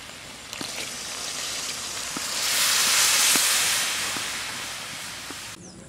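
Water poured into a pan of sizzling Bengali mutton and potato curry, a loud steady hiss of steam that swells to a peak midway and then eases off, with a few small clinks of the pan.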